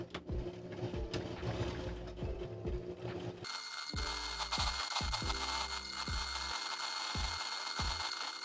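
Sewing machine stitching a one-centimetre hem turned inward on fabric for a long A-line skirt, a steady mechanical rattle with repeated rhythmic clicks and thumps, continuous and close.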